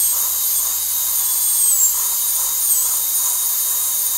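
A dental drill enlarges a hole in a plastic tooth while building a monodont dental bridge, a steady high-pitched whine running loud and unbroken throughout with no talking.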